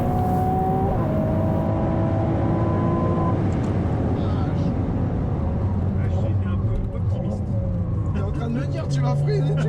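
A Ferrari 296 GTB driven flat out on a track, its engine note loud and close from the cockpit, rising and falling through gear changes, with speech over the engine.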